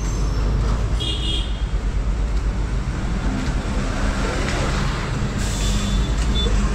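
A truck pulls up with a low engine rumble amid road traffic, and short bursts of air-brake hiss cut through near the start and toward the end.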